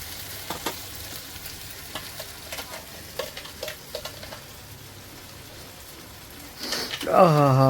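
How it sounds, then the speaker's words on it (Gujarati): Spice masala sautés in hot oil with a low, steady sizzle, broken by occasional scrapes of stirring; a voice starts speaking at the very end. "આ બધો જ મસાલો પહેલાં આપણે તેલમાં નાખીને પાંચ મિનિટ સોટે કરી નાખવાનું છે"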